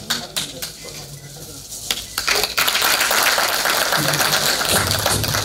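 Applause rises at a felicitation ceremony during a promotional event at Srimanta Sankardev Kalakshetra, a dense, sustained wash of clapping swelling after a couple of seconds and continuing loudly, with a voice on a microphone heard at the start.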